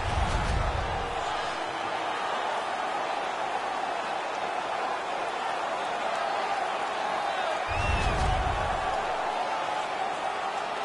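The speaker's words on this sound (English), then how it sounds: "The crowd is so pumped right now." Arena crowd in the hockey video game NHL 19 roars in a steady, broad wash of cheering, with two brief low rumbles swelling at the start and near the end; no voices stand out above it.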